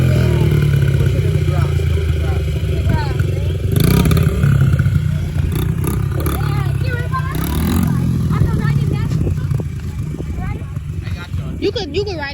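A kid rides a dirt bike across grass, its small engine running steadily and rising in short revs while voices chatter nearby throughout.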